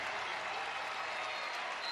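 A crowd at a women's college basketball game between Georgetown and UConn applauds in a dense, steady wash of clapping and cheering heard at a distance, continuous throughout.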